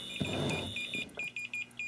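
Short electronic beeps from a low-power pulse motor pulse in a steady rhythm, high-pitched and clear, following a brief burst of broadband noise at the start.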